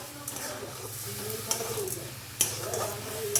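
A carrot laddu mixture with sugar and milk is stirred in a pan, producing a low sizzle under repeated scraping strokes and a few knocks of the spoon against the pan.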